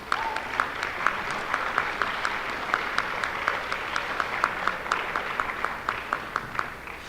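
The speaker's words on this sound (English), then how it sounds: "let's give them a round of applause" Audience applause at a high school spring band concert: a steady crowd of clapping with a close, rhythmic clapper standing out at an even beat.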